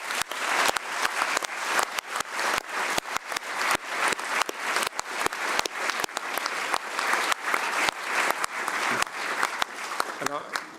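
Audience applause fills a conference hall at the European Parliament in Strasbourg, dense steady clapping throughout with a few sharper claps standing out, ending with a brief voice.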